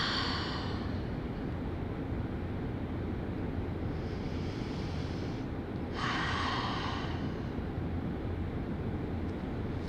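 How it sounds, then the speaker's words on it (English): A slow yoga exhale heard up close and softly, a long breathy rush that swells and fades, with a second airy breath later over a quiet, steady background hiss. "exhale it out."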